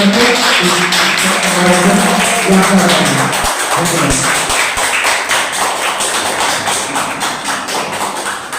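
Loud, sustained clapping from an audience at a university philosophy department Teachers' Day ceremony, dense and close, with faint voices murmuring underneath.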